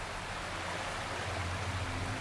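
Steady rushing of a waterfall in the video game Wuthering Waves, a constant broadband wash of falling water heard close and alone with no talk over it.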